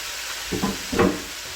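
Kimchi sautéed in a pan for fried rice, two short bursts of sizzling stirring against a faint steady background hiss, close and brief.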